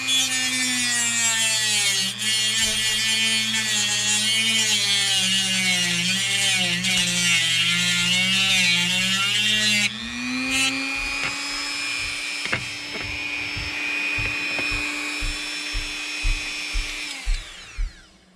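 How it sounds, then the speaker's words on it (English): A Dremel rotary tool with a reinforced cutting wheel cuts into a model Class 66 locomotive body shell, giving a steady high whine that shifts pitch as it bites. Midway the tone changes, and it ends in a run of short rhythmic cutting bursts before stopping. "you want to bring the Dremel to the body shell, and obviously I'm using the reinforced wheel so that it doesn't break"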